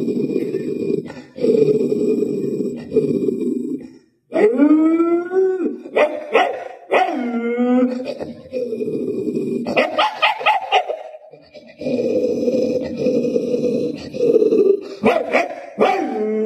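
A human voice mimicking two dogs fighting, one small and weak, one large, with alternating snarls, growls, yelps and howling whines in loud close bursts separated by brief pauses.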